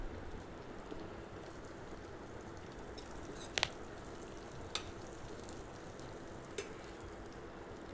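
Peanuts and cumin fry in hot oil in a pan. A faint, steady sizzle runs throughout, with a few sharp clicks and taps of stirring.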